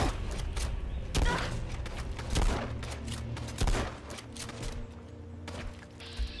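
Bursts of gunfire from the video game Fallout: London, several sharp shots and rapid volleys spread across a few seconds with thuds in between, fairly loud, while a voice talks intermittently.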